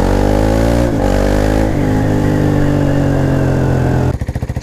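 KTM Duke 390 single-cylinder motorcycle engine on a night ride, loud and close, revving with rising pitch that drops at gear shifts, then a choppy pulsing burst near the end.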